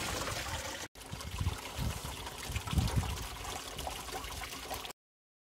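Water trickles and splashes steadily from hot tub jets as the tub fills, a continuous close liquid flow with a brief dropout near the start.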